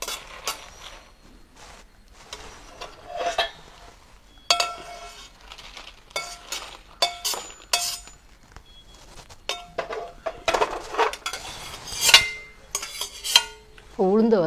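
Roasted chillies are tipped out of a pan in a kitchen making idli for a large morning meal: scattered metallic clinks, scrapes and rattles of utensils, close and uneven, with no talking.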